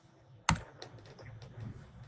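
A name is typed on a computer keyboard: one sharp key strike followed by a quick run of lighter, uneven clicks, close and fairly quiet, no speech.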